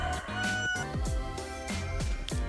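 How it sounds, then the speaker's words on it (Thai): A rooster crows over and over, its repeated calls rising and falling in quick succession, loud and close, with almost no talking. "มาตอนนี้คือแบบไก่ขันไม่หยุดเลย"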